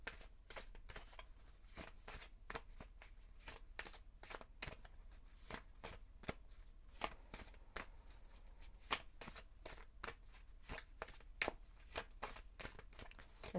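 Oracle cards being shuffled by hand, a steady run of quick papery riffs and flicks close up and fairly quiet, continuing without pause with no talking.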